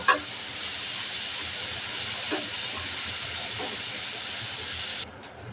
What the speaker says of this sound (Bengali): এই তেলের ভিতরে দিয়ে দেবো পেঁয়াজ কুচি আর মরিচ খালি পেঁয়াজটা ভালোভাবে ভেজে নেব